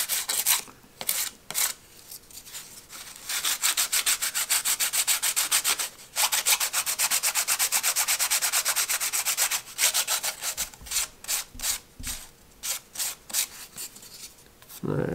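Light sanding along the joint of a foam catapult glider to remove burrs, a steady close-up scratchy rubbing that runs in continuous strokes, then breaks into shorter quick passes toward the end.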